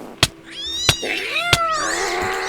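A Minecraft cat meows three times in quick succession, each call a sharp attack followed by a drawn-out, wavering tone, close and clear with no talking.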